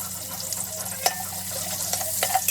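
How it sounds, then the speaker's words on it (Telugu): Onions fry in hot oil for egg biryani, a steady close sizzle with a few soft clinks and scrapes of a spoon stirring the pan. "అవి ఫ్రై అయ్యాక దాంట్లో ఆనియన్స్ వేసుకొని అవి బ్రౌన్ కలర్ వచ్చేలాగా ఫ్రై చేసుకోండి."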